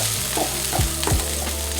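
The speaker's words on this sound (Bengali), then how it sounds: "এখন আমি এই পেঁয়াজ অনবরত এরকম নেড়ে ব্রাউন কালার করে নেব।" Onions fry in a pan for a Bengali taro-stem dal with prawns, giving a steady close sizzle, while a spoon stirs through them with a few scraping strokes.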